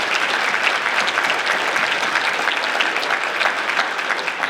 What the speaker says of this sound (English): Let's clap it up for Brookstone, please.